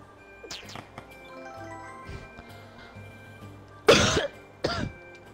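Two sharp, close coughs come one after the other against a quiet background with faint tones.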